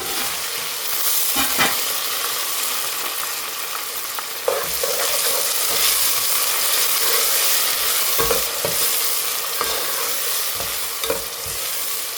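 Sliced onions hiss and sizzle in hot oil with ginger, garlic and whole cumin for a prawn biryani, a steady loud frying wash with occasional stirring scrapes and clanks of the spoon against the pot.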